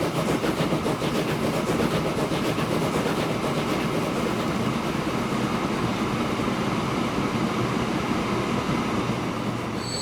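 Steam train running in the railway-building game Transport Fever, a steady rumbling rail noise with wheel clatter continuing evenly throughout, close and fairly loud, with no talk.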